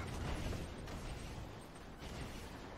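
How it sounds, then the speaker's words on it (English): A bomb detonates in the real-time strategy game Command & Conquer 3: Tiberium Wars, giving a booming burst followed by rumbling, crackling battle noise that lingers at a steady moderate level. "I got a bomb on them."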